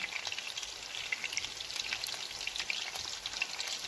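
Steady crackling sizzle of chopped chicken cutlets with cheese and red pepper frying in a pan, with dense popping spatters, close and fairly quiet, without any voices.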